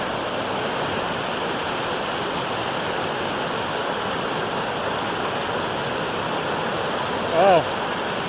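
Ten Sleep Creek rushes through Ten Sleep Canyon in a constant, loud broadband roar of flowing water, with a brief voice near the end.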